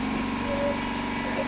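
Air compressor running steadily in a motorcycle workshop during work on a Ducati V4R, a continuous loud mechanical drone with a pulsing low rumble and no break.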